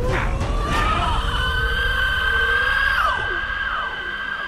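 A long, loud scream rings out in Horizon Zero Dawn, its wavering tones holding for about three seconds before sliding down and fading into a rumbling background.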